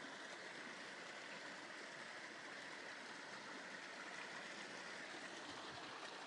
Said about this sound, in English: Oh yeah, that's where the water sound's coming from.